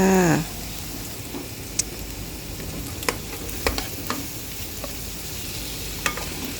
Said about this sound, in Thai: อันนี้เราก็จะผัดไข่นะคะ ผัดไข่ให้สุก สุกแล้วก็เราก็จะใส่บวบลงไปค่ะ